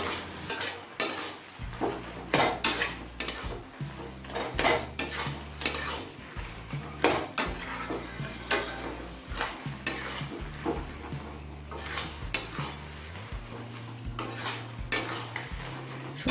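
Garam masala powder being stirred into cabbage curry cooked with mixed vegetables, heard as a metal spoon scraping and clinking against the pan in quick, uneven strokes over a faint sizzle and low background tones.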